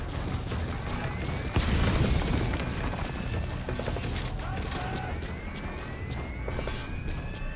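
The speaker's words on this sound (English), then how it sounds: "Ooh, but not with mortar shells." Mortar shell explosions in Metal Gear Solid V: The Phantom Pain, a heavy boom standing out against a busy, continuous background of mechanical clatter and whirring, with someone talking over it.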